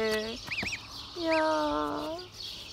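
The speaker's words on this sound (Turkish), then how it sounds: "Kaz yavrularını gösterelim" High, thin peeping calls from goslings come in short bursts, close by, with a brief spoken word mixed in.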